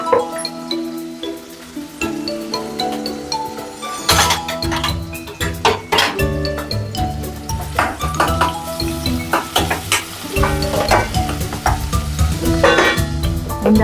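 Green chillies and onions frying in hot oil, a steady loud sizzle with frequent clatter of a spoon stirring against the pan.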